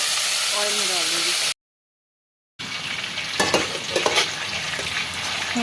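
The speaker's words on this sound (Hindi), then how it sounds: "इस तरह से प्याज निकाल के सारा ऑयल में डाल दूँगी।" Onions frying and being stirred in hot oil in a home kitchen give a steady, loud sizzle with scraping stir sounds, broken by a short gap of silence, and a voice is heard faintly at the start.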